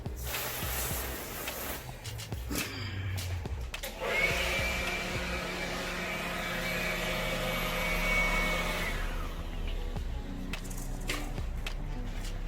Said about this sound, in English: get out the blower and see if it's any easier to blow off than the previous coating